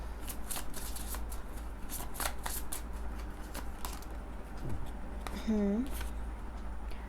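Tarot cards being shuffled by hand in a series of quick riffling bursts, close and clear over a steady low background hum, with a brief voice sound near the end.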